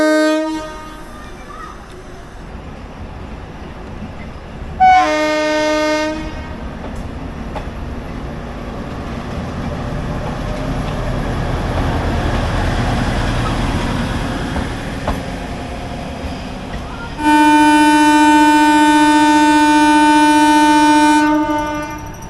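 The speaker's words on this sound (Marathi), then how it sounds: "आपल्यासमोर आता आलेले आहे अमृतसर येथून क्वादियनला जाणारी डेमो पॅसेंजर" A four-coach DEMU passenger train from Amritsar to Qadian rumbles past, its horn blaring in two long, loud blasts, one early and one near the end, over steady wheel noise.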